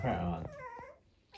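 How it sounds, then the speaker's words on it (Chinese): A small rescued stray puppy gives a close, high whining yelp that rises and fades, preceded by a brief low growly sound and followed by near silence. "这个小狗狗啊，我真是有我自己都有点受不了了，特别能叫唤"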